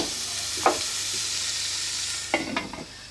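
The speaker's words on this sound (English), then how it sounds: "Meat's starting to cook." Wild pork and onions cooking in a pan, a steady low sizzle with a few sharp scrapes and clinks of a utensil stirring, close up and without talk.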